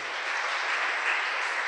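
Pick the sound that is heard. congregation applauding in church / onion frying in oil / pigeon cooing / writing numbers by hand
congregation applauding in church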